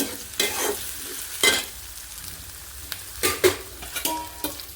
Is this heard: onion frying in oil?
yes